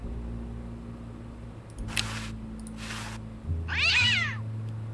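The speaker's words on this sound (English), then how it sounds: "Cat." A cartoon cat in the point-and-click adventure game Day of the Tentacle Remastered gives a loud meow near the end, after two short noise bursts, all over a steady low hum.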